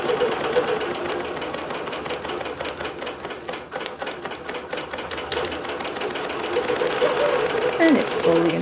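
A computerized quilting machine stitches a border across a quilt, producing a steady mechanical whirring with rapid needle ticks throughout, fairly loud and even.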